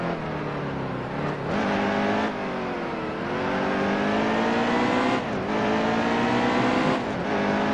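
Race car engine in the video game NASCAR Heat 2, a loud continuous high-revving roar that rises steadily in pitch, with brief dips around shifts or lifts before climbing again, heard alone without talk.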